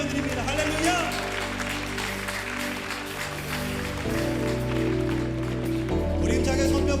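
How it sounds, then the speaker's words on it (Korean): A church congregation applauds loudly and steadily, a dense wash of clapping that carries over sustained organ or keyboard chords while a pastor's voice speaks over it. "우리 주님께 큰 박수로 영광 올려드립니다"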